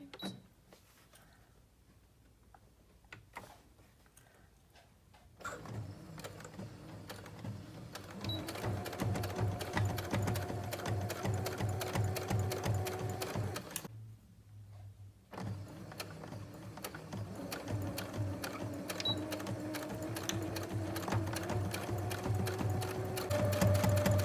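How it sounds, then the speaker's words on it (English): A sewing machine stitching fabric for a medical mask, quiet at first, then running in two steady rapid bursts of mechanical whirring and needle clatter with a short pause between them. "we'll sew that at 1/8 of an inch as well"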